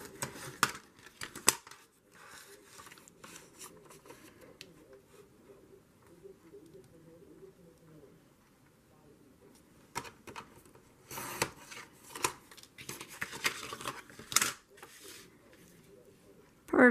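Scissors trimming paper for a handmade journal page: close, crisp snipping and rustling cuts in short clusters with pauses between, quiet overall, alongside soft talking.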